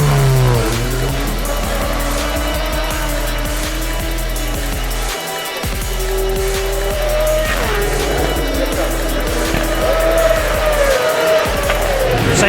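Honda Fireblade superbikes rev and accelerate loudly close by as the Superbike class heads out for qualifying at a race meeting, engine notes rising and falling and overlapping in short bursts, with no talk.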